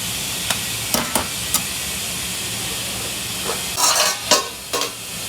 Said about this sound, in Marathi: तेल टाकलेलं आहे आणि ते आपण डोसा करतोय